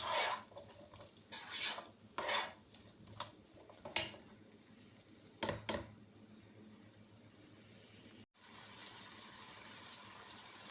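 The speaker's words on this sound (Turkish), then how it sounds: "Böyle sebzeleri ekledik. Biraz kavuruyoruz." Potatoes and vegetables are stirred and sautéed in a pan, with intermittent scraping and clattering of a utensil against the pan and a soft background sizzle, close and fairly quiet.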